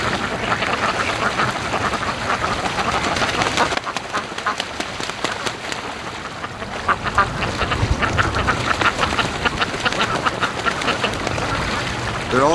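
Free range ducks quacking repeatedly in cold, nasty winter weather, a busy overlapping chorus of quacks, fairly close and loud, with brief pauses and wind noise, no talking.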